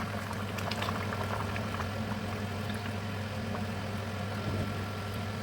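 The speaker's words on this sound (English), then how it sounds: "So we add our palm oil." Groundnut soup bubbling steadily in a pot as palm oil is added, a continuous soft boil with small pops and a low hum beneath, fairly quiet and without talk.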